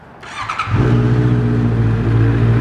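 A 2018 Honda CBR650F motorcycle with a premium slip-on Akrapovic-style exhaust starts up close by, a brief cranking whir catching into a loud, steady rumbling idle.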